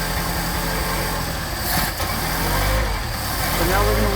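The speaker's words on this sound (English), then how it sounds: "It's even cold, we got a nice idle." A cold Mercedes 190SL engine with a Solex carburetor idles steadily, a loud, even mechanical hum and rumble that stays constant throughout.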